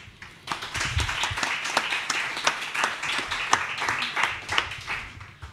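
An audience at a literary event in a bookshop gives warm applause for Nadia Valavani, many hands clapping briskly and unevenly at close range, building quickly and holding steady.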